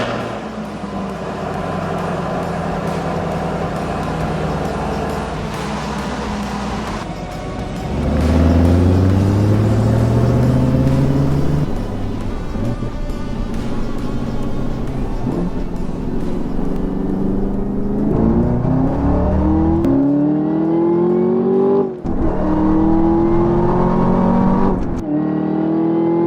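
A 6th-generation Chevrolet Camaro ZL1 muscle car accelerating hard on a drive, its engine note climbing through rising revs, dipping briefly at gear changes and climbing again, loud and close throughout.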